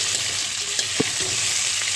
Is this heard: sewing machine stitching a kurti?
no